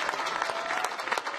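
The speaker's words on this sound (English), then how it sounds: "It drew round after round of applause from the 100 or so supporters at the hall." About a hundred supporters in a hall applauding at a provincial PC leadership campaign rally, a lively stream of sharp, close hand claps with no speech over them.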